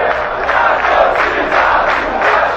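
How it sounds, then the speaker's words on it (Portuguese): Vasco fans singing the club anthem in a stadium, a loud dense mass of voices in unison, steady and continuous without pauses. "A torcida do Vasco canta o hino"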